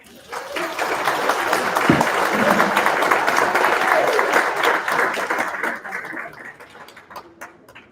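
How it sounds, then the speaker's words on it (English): Audience applause at an honor society ceremony, a loud sustained crowd clapping that swells quickly, holds for several seconds, then tapers off near the end. "can you give him a big round of applause?"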